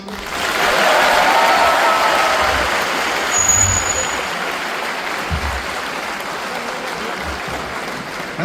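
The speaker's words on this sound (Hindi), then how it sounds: "ताली बजाओ।" Audience at a conference for CA students in Birla Auditorium breaking into loud, dense applause that swells early, then gradually thins and fades toward the end.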